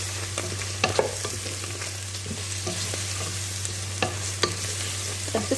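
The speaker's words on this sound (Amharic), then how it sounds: "ስጋውንና ነጭ ሽንኩርቱን ሽንኩርቱ ያው እንደምታዩት ከለሩን እስከሚቀይር ነው የጠበስኩት" Meat and garlic fry in a pan for a simple pea dish, with a steady close sizzle broken by sharp scraping stirs at irregular intervals.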